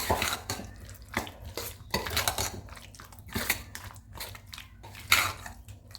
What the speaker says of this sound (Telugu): ఈ నిమ్మకాయ ముక్కలకి సరిపడ కారం, అలాగే జీలకర్ర, మెంతులు, ఆవాలు కలిపిన పిండి వేసుకొని బాగా కలుపుకోవాలి